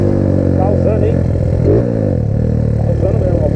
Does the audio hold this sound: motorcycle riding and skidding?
yes